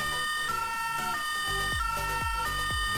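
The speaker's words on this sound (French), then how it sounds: "Ici, vous pouvez allumer la sirène, et là, c'est la lumière bleue qui s'allume." A Playmobil toy fire engine plays its electronic siren: a loud, close, wailing two-tone electronic tone that repeats steadily with slightly buzzy falling sweeps, with no voices over it.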